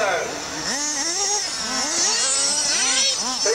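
A remote-control model jet plane, shown at a model display at a police club, roars past after turning, its engine tone sweeping up and down loudly with a steady high whine above it.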